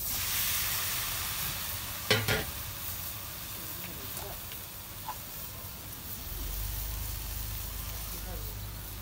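Soft, steady sizzling of greens in a hot wok, with a brief clatter near the start and a low rumble building toward the end.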